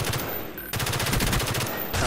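A Stoner machine gun fires in Black Ops 1, loud rapid automatic bursts of gunfire with a short pause between two long strings of shots, no voices.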